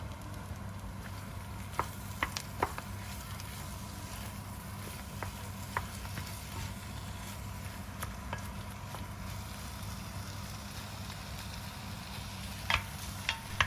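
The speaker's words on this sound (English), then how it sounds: "Transfer the meat into the pot with the spices, onion, garlic and ginger and mix everything around until all the meat is coated." Meat is stirred in a pot with spices, onion, garlic and ginger, giving a quiet steady sizzle with occasional soft scrapes and clicks of a utensil.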